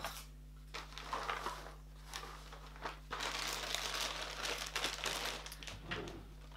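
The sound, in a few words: opening a puzzle box, crinkling wrapping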